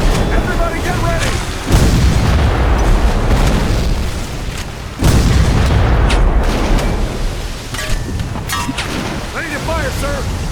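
Civil War cannons fire in a retro battle game, two heavy booms a few seconds apart over a dense, continuous roar of battle noise with shouted voices scattered throughout.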